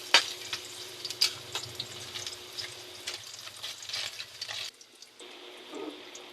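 Garlic and onion sauté in hot oil for pancit canton, a soft, faint sizzle with light stirring and scraping clatters, fading quieter near the end.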